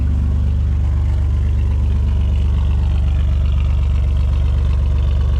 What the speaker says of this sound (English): But if you hear that exhaust leak, that's why.